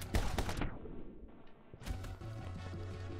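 Rapid bursts of video game gunfire crackle up close, dropping out briefly for a near-silent gap before resuming over a steady low musical hum.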